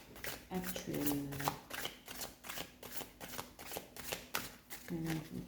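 Tarot cards being shuffled for a reading, a steady run of soft riffling slaps and flicks close by, with brief tonal hums and no clear talk over them.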